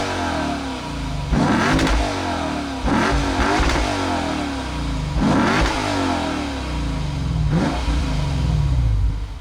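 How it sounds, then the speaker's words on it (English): A 2022 Lexus IS500 V8 sedan revs hard several times in bursts, its deep exhaust roaring up and dropping back between each blip, loud and close. "those exhausts sound pretty good."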